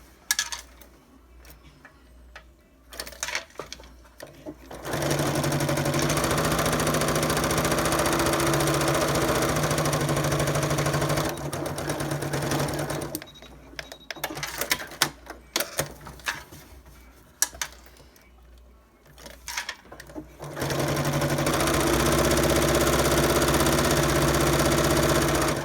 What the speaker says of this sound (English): You're going to stitch down the sides of each of the open ends, leaving about a finger width open.